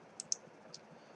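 A couple of light, sharp computer mouse clicks, close and quiet, spaced a moment apart in a quiet room, followed by a fainter third click.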